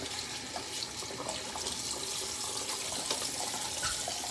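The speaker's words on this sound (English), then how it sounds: "I'm just gonna splash some water on my face." Water splashes from a bathroom sink onto a face while a charcoal mask is rinsed off. A steady close wash of running and splashing water continues without pause, with no talking.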